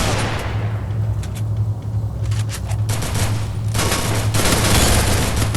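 Loud, dense gunfire in the video game Free Fire, rapid overlapping bursts of automatic shots nearly continuous throughout, close and dominant with a low droning hum beneath.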